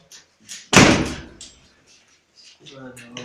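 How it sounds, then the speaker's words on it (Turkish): A door in a civilian goods storage depot is pushed shut with one loud, close slam that rings out briefly, followed by faint shuffling and some background voices. "Kapıyı da kapatalım."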